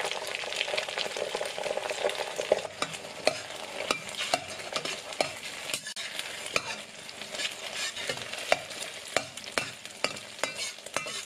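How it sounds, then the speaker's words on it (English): Eggs stir-fried in a hot pan, a steady sizzle under frequent sharp clicks and scrapes of the spatula against the pan, close and even throughout, without voices. "然后加入鸡蛋翻炒。"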